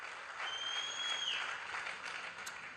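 Audience applause during a speech carries as a dense, even clatter of many hands clapping for nearly three seconds, moderately faint and continuous, with no voices over it.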